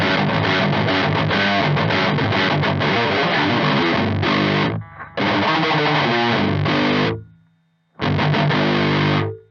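Electric guitar played through a Biyang DS 12 distortion pedal, loud and heavily driven, with strummed chords and riffs in three bursts separated by short gaps and a ringing decay before the last phrase.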